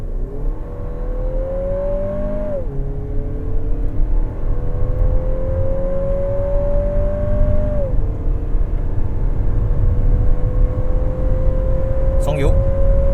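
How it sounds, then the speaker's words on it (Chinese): A 2023 Lexus NX 350 with a 2.4L turbo engine accelerating at high speed, its steady engine drone rising in pitch through two gear shifts over loud road and wind noise, with people talking inside the cabin. "所以我们现在是加速。"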